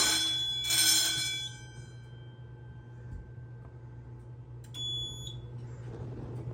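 A school fire alarm system sounds during testing, with a brief burst of ringing bell and alarm tones, a long steady tone and low hum between them, then a short high beeping, with no speech.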